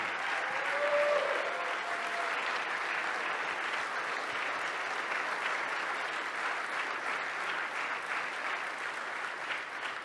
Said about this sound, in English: Please, a round of applause for the President of the United States of America.